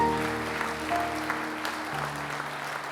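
An auditorium full of scientists applauding at an award night, dense, continuous clapping with a faint tone sustained beneath it throughout.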